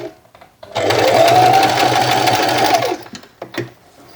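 A sewing machine runs a back stitch along a tote bag seam, whirring loudly and closely in a steady two-second burst, with soft handling clicks and taps before and after.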